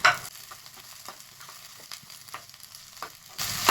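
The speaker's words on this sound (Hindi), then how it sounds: "शिमला मिर्च जब तक सॉफ्ट ना हो जाए तब तक पकाएंगे इसको" Chopped capsicum frying in a pan for cabbage manchurian, a steady soft sizzle with a few faint stirring scrapes, ending in a louder burst of hiss.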